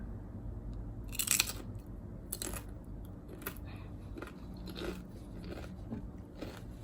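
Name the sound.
crunchy carne asada chips being eaten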